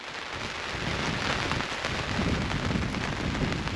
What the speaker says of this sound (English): listen to the rain on the tarp